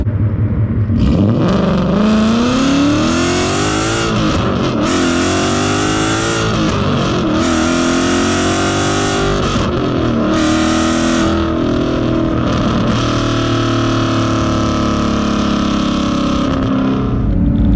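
A modded car with DragStar wheels and 410 setup revs hard and loudly throughout, its engine note rising and falling in continuous sweeping pulls close to the listener with a deep rumble underneath.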